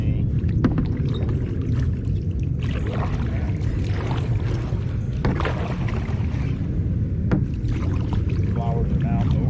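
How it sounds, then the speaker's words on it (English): Kayak paddle strokes sloshing through six-inch-deep water among cypress knees and flowers on the Black River in Andrews, South Carolina, with steady close water movement and occasional splashes under constant low rumble. "I'm basically paddling in about 6-inch deep water right now"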